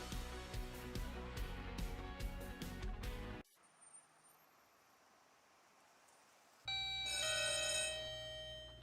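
A business phone line rings in an Eagle Broadband advert, where a bright, loud ringing tone bursts in near the end after a stretch of music and a short quiet gap.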